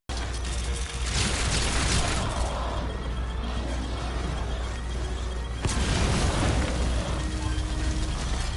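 A bomb blast in a video game: a broad, sustained rumbling roar fills the scene, with a second sharp burst and renewed roar partway through, loud and without speech.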